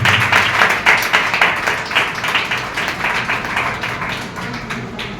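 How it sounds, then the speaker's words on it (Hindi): A crowd at a Christian youth meeting in India claps to welcome a speaker forward, a lively, fairly close round of hands with a pulsing rhythm that gradually eases off. "हम क्यों ना प्रभु के दास के लिए तालियां बजा के उनका स्वागत करेंगे।"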